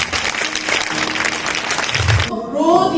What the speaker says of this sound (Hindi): एक जोर से ताली मारें।